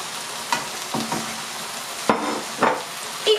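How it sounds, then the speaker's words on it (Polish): Mushrooms and chopped onion frying in a pan, a continuous close sizzle broken by several clattering stirs and scrapes at irregular moments. "I chwilę podsmażymy, żeby cebula nasza się zeszkliła"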